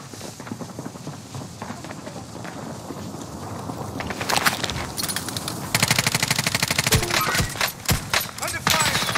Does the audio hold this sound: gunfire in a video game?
yes